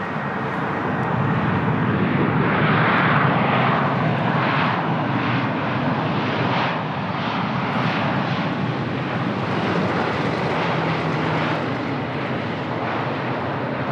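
Aircraft engines roar steadily at Lisbon Airport in Portugal, a loud, continuous jet rumble that swells slightly and holds throughout with no talking.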